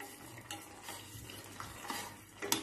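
A spoon stirs a tempering for khaman dhokla in a pan, quiet scraping strokes over faint sizzling, with a few sharper clinks of metal.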